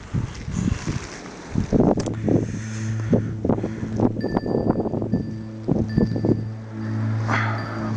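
Strong gusting wind during a snowstorm buffets a microphone outdoors, with irregular rushing bursts and flapping thumps over a low steady hum, close and loud.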